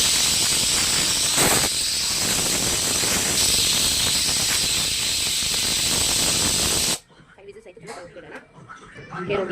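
A pressure cooker whistle hisses loudly and steadily as steam escapes while mutton sambar cooks, cutting off abruptly near the end and leaving quiet room noise.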